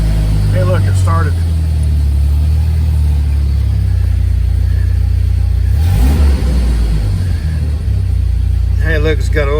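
A car engine idles steadily and close by right after an oil change, its low rumble running throughout while people talk over it.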